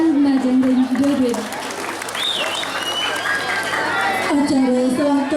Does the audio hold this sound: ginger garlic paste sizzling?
no